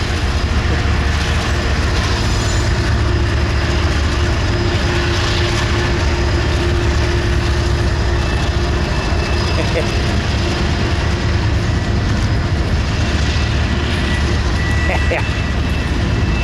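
CSX heritage locomotive 1836 arriving with its freight train at Cajon Pass, a steady loud rumble and rail noise filling the whole stretch, with some background talk.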